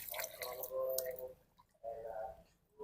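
Liquid fertilizer being stirred in a small water dipper for potted Dewata 76 chili plants, with soft sloshing and dripping in two bursts separated by a pause, close and quiet under faint background talk.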